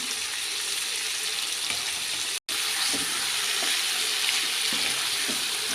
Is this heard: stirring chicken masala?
yes